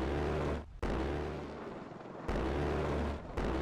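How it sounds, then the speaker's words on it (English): Automatic weapon fire in Ravenfield, a modded gameplay session fighting a US Reaper drone: loud, sustained booming bursts broken by brief gaps, with heavy low rumble throughout. "Just listening to this gun."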